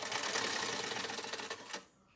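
A vintage Singer Spartan 192k sewing machine stitching through tissue paper runs in a fast, steady mechanical chatter, close and continuous, then slows and stops near the end.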